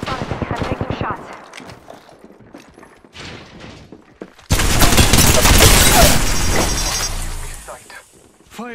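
Gunfire in a video game bursts out loudly in a dense, rapid volley lasting several seconds, with shattering and mechanical clatter. Talk comes first over sparse game sounds.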